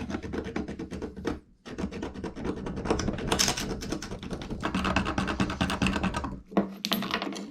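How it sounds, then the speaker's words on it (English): Obsidian blade scraping a fine cut line into bone, a steady close rasping with short rhythmic strokes and a couple of brief pauses. "I'm really surprised with this obsidian how well it's making just a really fine cut line through this bone."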